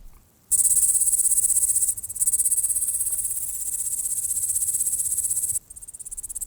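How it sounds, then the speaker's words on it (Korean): A grasshopper on Hallasan, Jeju's volcanic peak, makes a loud, close, high buzzing chirr in sustained bursts, broken by a short pause before fading off near the end, with no talking. "태풍에 실려왔을 메뚜기."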